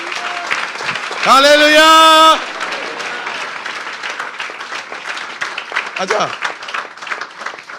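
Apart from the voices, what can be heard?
church congregation applauding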